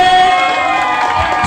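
A group of people in team games cheers loudly together, a dense sustained roar of voices that fills the short moment with no pauses.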